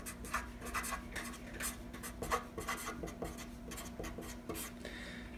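Marker or chalk strokes on a classroom board during a math exam review, a steady series of short scratchy rubbing strokes in quick irregular rhythm, close and moderately quiet with no voices.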